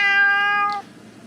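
A cat meows once in a long, bright, strongly tonal call that stops abruptly, heard close and alone inside a van during travel.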